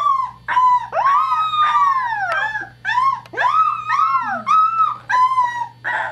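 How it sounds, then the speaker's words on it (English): Thirteen-day-old wolf pup howling alone, a string of high, wavering, rising-and-falling cries broken by short gaps, close and fairly loud, with yips and whimper-like breaks between the longer howls over a faint low hum. "He just let out a howl."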